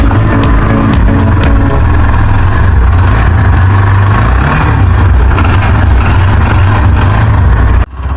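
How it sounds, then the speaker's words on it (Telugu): A loud 2024 Hero Xtreme 160R motorcycle engine idles close by with a steady, low, throbbing rumble and a few sharp ticks early on, then cuts off abruptly near the end. "ఇంజన్ స్టార్ట్ చేస్తున్నా, ఒకసారి సౌండ్ వినండి"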